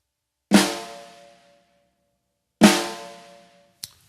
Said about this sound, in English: a flam is basically played with holding one stick higher, one stick lower, drop the sticks at the same time